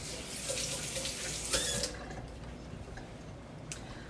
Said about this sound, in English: Now I got to rinse my hand.